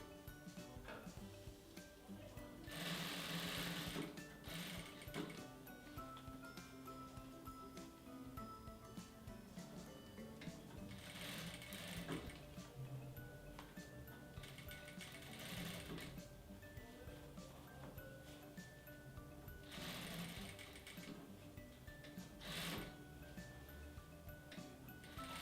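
A sewing machine stitches a seam right along the thin edge of fabric for a phone accessory holder, running in quiet bursts of rapid ticking with short pauses between runs, close by and with no voices.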